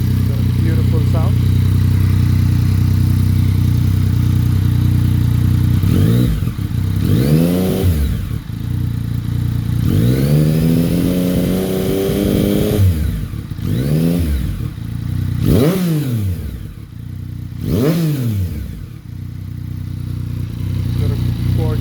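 A Yamaha MT-09 motorcycle with 7,600 km on it, in A mode, idles loudly and close, then is blipped through half a dozen sharp revs that rise and fall back to a rumbling idle.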